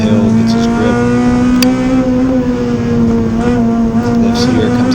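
An autocross car held at flat throttle through a slalom, its engine droning loud and steady at high revs with a strong, even tone, close and continuous throughout.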